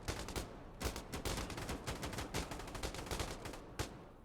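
Rapid gunfire from the video game Insurgency Sandstorm, dense bursts of automatic shots crackling one after another for several seconds, loud and close, with a few sharper single reports standing out near the end.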